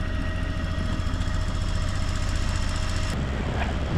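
Audi B9 S4 engine idling during intake valve cleaning, a steady close mechanical hum with a faint high whine that cuts out abruptly near the end, no talking.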